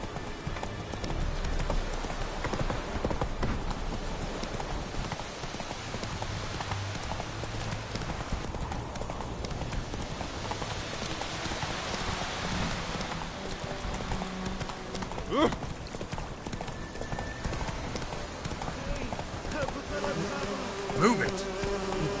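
Geralt's horse Roach from The Witcher 3 game trots with a rhythmic clip-clop of hooves over a steady buzz of insects, with a faint whinny at times and talk around it.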